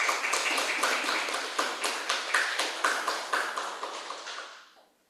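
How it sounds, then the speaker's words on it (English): A lecture series audience applauds a professor. Dense clapping settles into a few rhythmic, unison claps, then fades out to silence. "Please give applause to Professor Umberto Pagano."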